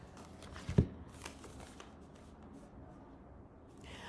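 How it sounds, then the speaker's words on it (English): A deck of tarot cards is shuffled indoors, a soft papery riffle with one brief sharper snap near the start, then faint continuous rustling. Everything stays very quiet, with no voices. "I shuffled the deck"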